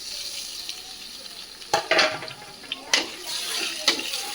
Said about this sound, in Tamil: இப்போ வெங்காயத்தை வதக்கிக்கலாம் வாங்க.